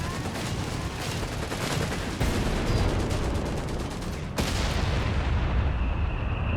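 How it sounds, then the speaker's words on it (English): An MG42 machine gun fires continuous rapid bursts at close range in a Company of Heroes 3 battle, loud and dense, with a heavy explosion at around four seconds and more gunfire after it. "MG42's letting loose at near point-blank ranges"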